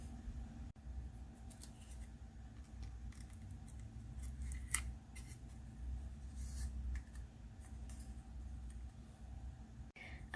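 Scissors snip through the cardboard of a paper towel roll during a craft, giving a faint series of short crisp cuts and clicks over quiet room tone, with no voices.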